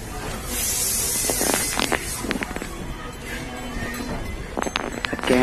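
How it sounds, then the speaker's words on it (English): Hissing bursts of an aerosol spray can applying silver paint, steady high-pitched spraying with short pauses and a few light knocks and clicks in between. "I'll spray paint the silver one."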